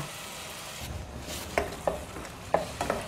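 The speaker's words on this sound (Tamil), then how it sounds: "இது போட்டு மறுபடியும் வதக்கலாங்க" Tomatoes and ground masala sautéing in a pan for peas gravy, a quiet sizzle broken by about five sharp spoon scrapes and taps as the mixture is stirred.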